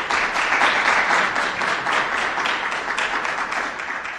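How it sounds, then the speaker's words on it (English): A small audience at a technical conference claps for a speaker who is being introduced. The applause is sustained and fairly loud and close, and fades a little toward the end, with no one talking over it. "thanks for that enthusiastic clap"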